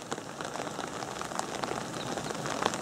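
Steady rain patters on a forest road in the Vosges mountains near Thiéfosse, a dense, even hiss of drops with scattered louder taps, close and continuous with no voices.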